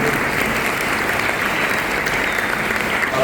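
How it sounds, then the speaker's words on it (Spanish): A tribute event's audience breaks into loud, sustained applause, many hands clapping in a dense, even roar that holds steady for several seconds without talk. "Yo le pido un aplauso a Alfredo."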